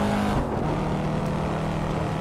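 A Corvette C7 Stingray with a seven-speed manual gearbox and road tyres drives on asphalt in the racing game Assetto Corsa. Its engine drones loud and steady throughout, with a small shift in pitch early on.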